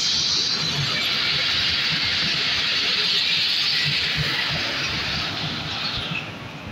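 The Allama Iqbal Express passenger train, led by a ZCU-30 locomotive, arrives at Bin Qasim station with a loud, continuous rumble and hiss of rolling wheels, steady and close before easing slightly at the end.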